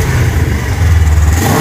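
A Suzuki Inazuma GW250F motorcycle engine with a blown exhaust gasket revs steadily with a deep, throaty drone, rising slightly in pitch toward the end. It is close and loud, with no voices.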